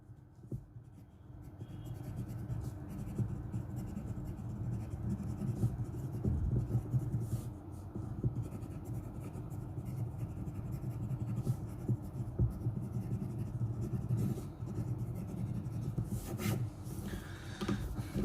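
A Bock medium fountain pen nib scratches across paper in a long continuous run of close, dry rubbing strokes with audible feedback, steady and fairly quiet, no talking.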